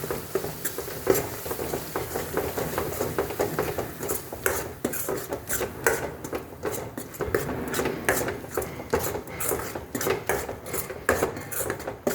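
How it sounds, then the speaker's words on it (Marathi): Ingredients are sautéed in a pan and stirred continuously, giving a busy scraping, rasping texture over a low frying hiss, with frequent spatula strokes against the metal. "एक 2-3 मिनटं आपल्याला ह्याला परतून घ्यायचं आहे."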